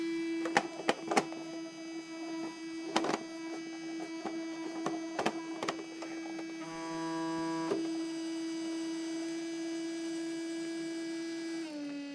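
A Lionel ES44AC model locomotive in Iowa Interstate livery gives off a steady electrical hum that runs throughout, with clicks and short tonal beeps layered over it, up close and without talk.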